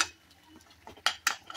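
Soya masala gravy stirred in a pan, with a few sharp metallic clinks and scrapes of the spoon against the pan, fairly close, no voices.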